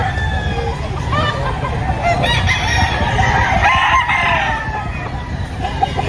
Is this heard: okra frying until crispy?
no